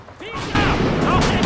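Gunfire striking the player in the World War II shooter Call of Duty 2, a burst of loud crashing shots and impacts with faint whistling tones layered in.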